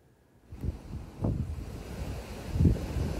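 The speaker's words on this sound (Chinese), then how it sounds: "狂风暴雪袭击美东" Strong wind roaring during a blizzard on the US East Coast, a loud continuous rushing gust with buffeting surges that rise and fall, heard alone without voices.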